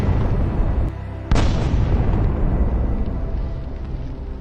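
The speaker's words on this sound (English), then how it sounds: "Then the javelin destroys another Russian armored vehicle." A Javelin missile strikes a Russian armored vehicle, a single sharp, loud blast cutting in after a brief low rumble, then a long, slowly fading roar of debris and echo with no voices.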